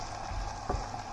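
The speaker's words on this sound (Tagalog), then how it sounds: "At i-prito natin ng ganito." A pork chop sizzles quietly in a pan, a soft, brief frying hiss with one small clink partway through.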